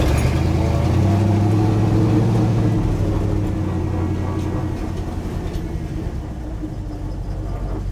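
Inside a restored Dodge W200 truck, whose first gear lacks synchro, the engine drones loudly and steadily on the move, with a low rumble that eases slightly toward the end.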